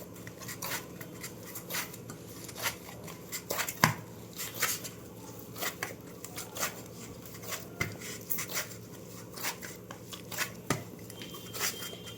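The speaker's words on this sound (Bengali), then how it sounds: "এবার লিচি কাটে নেব।" Sabudana (tapioca pearl) dough being cut and divided into large portions on a kitchen surface, giving soft scraping and chopping taps at an irregular pace, close and moderately quiet, with no talking.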